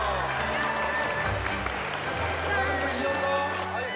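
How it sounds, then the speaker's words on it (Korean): A crowd claps and applauds steadily for several seconds at a golf competition trophy presentation while music plays underneath. "큰 박수 부탁드리겠습니다."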